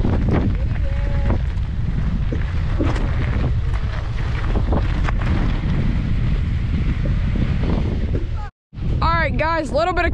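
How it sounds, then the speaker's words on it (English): Strong wind at a beach buffets the microphone in a continuous loud roar with rumbling gusts, a brief dropout near the end followed by a short burst of sound. "And it's hella windy here."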